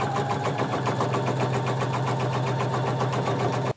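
A sewing machine stitches close along the edge of a waistband casing on a romper or dress, running at a steady, fast pulse near the mic, then stopping abruptly at the very end.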